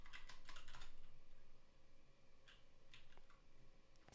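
Computer keyboard typing during coding work, a steady run of quick key clicks with bursts of faster strokes, close and fairly quiet, with no voices.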